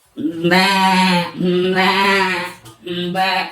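A goat bleats loudly and close up in three long, wavering calls, the last one cut shorter, with brief quiet gaps between them.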